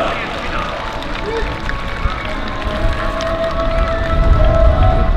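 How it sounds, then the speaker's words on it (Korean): A baseball stadium crowd applauds during a ceremonial first-pitch event, the clapping a dense, rain-like patter under an announcer's voice that swells louder toward the end. "다시 한 번 힘찬 박수 부탁드리겠습니다"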